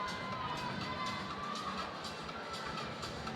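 A crowd cheers and shouts steadily for a climber in the final round of a bouldering national championship, a dense continuous roar with no single voice standing out.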